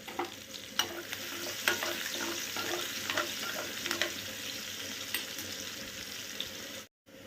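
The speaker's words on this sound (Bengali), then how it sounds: "তো এটা জাস্ট ফোড়নে দিয়ে দিচ্ছি।" Spices tempering in hot oil for a beetroot dish, a soft continuous sizzle with scattered crackles and stirring clicks, close and steady, cutting out briefly near the end.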